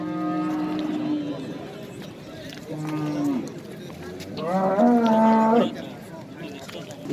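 Dairy cows moo at a livestock market in Osh, with several drawn-out low calls rising and falling, the loudest near the end, over a background of people talking.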